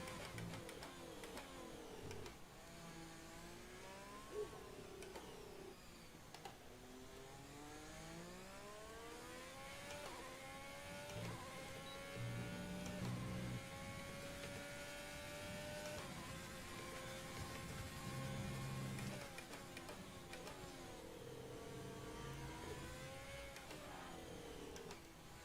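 An F1 car lapping in the racing game F1 2020, engine notes rising and falling in pitch through gear shifts, steady and fairly quiet throughout without speech.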